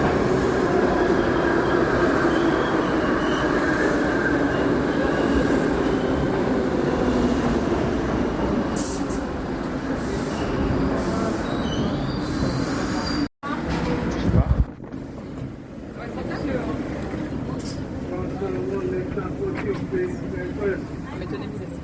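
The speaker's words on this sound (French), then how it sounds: "on vient de prendre le métro" A New York City subway train rides along with a steady loud rumble and rail noise, clicks and brief squeals, interrupted by a sharp drop and clunks midway before the rolling roar resumes.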